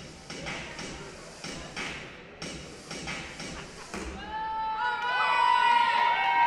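Spectators at a girls varsity volleyball match between Gunn and Mountain View clap and stamp in the stands, then a crowd cheer swells with shouting voices, the noise rising toward the end.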